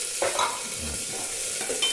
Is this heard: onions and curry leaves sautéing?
yes